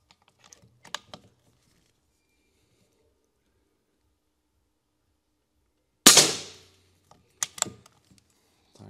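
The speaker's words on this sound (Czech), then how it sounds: "Tak, dejme ještě 1-2 výstřely." Shots from an SPA M air rifle with a shrouded barrel: a single sharp crack with a short decaying tail, then scattered light clicks and mechanical handling noises in an otherwise quiet room.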